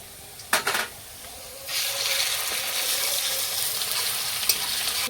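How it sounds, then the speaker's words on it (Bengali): Garlic goes into hot oil with already fried onion: a few clattering stirs come first, then a loud steady sizzle rises and holds. "পেঁয়াজটা ভাজা হয়ে গেছে এইবার আমি রসুনটা দিয়ে দিলাম"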